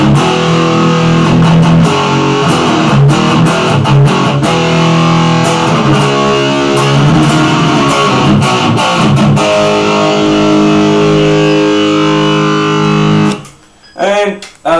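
Electric guitar played through a Black Star distortion pedal on a pedalboard, loud and saturated with sustained chords and riffs throughout, ending in a brief burst of pedal effect noise.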